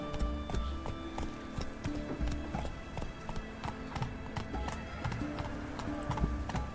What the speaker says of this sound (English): So we can actually go by horse.